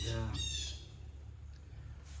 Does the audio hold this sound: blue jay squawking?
yes